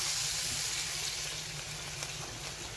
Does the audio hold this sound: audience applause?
no